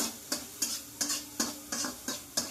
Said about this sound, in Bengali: ভাজা ভাজা করে নেবো নে হালকা করে ফ্যাটলি নেবো নে